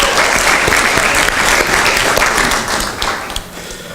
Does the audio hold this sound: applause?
yes